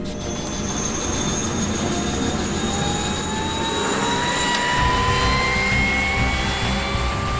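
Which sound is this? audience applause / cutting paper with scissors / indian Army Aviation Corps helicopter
indian Army Aviation Corps helicopter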